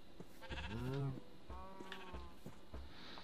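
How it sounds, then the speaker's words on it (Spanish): A Minecraft sheep bleating, several wavering nasal bleats in quick succession, the first loudest, all close and clear over a faint background. "No jodas, también viene la oveja"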